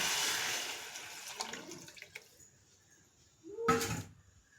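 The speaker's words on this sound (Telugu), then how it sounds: "ఇప్పుడు ఇందులో కొంచెం వాటర్ వేస్తున్నాను." Water is poured into a pan of prawn pakoda curry, a rushing splash that fades over a second or two, followed by quiet and then a brief second gush.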